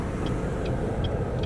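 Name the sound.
car driving down the road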